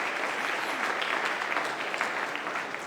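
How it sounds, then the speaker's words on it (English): A live event audience applauds steadily with dense, even clapping that holds throughout this short, moderately loud stretch. "big round of applause"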